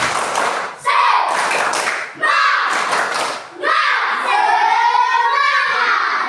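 A classroom group claps together in a "tepuk semangat" clap game, bursts of loud rhythmic clapping and shouted chanting separated by brief pauses, voices joining in throughout.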